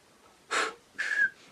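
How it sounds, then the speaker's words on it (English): Two short breathy whistles blown through the lips while finding a saxophone embouchure position, each about a quarter second long with a soft airy hiss. They sound close and alone against quiet background. "And that whistle is a really quick, simple way of finding that position."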